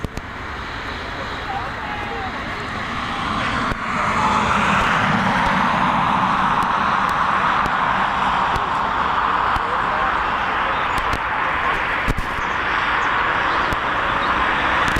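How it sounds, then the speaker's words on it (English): An Emirates Boeing 777 airliner taxiing at Dublin Airport produces a steady, loud broadband jet roar and whine that swells slightly partway through and holds, with a voice talking over it. "There's the Emirates taxiing back to stand."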